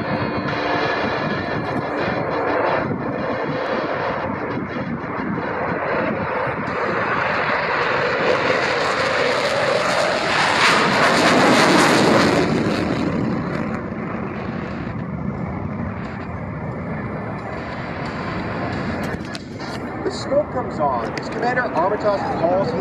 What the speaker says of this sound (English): Smoke on, off brakes now, burners ready now, and the Blue Angel Diamond is rolling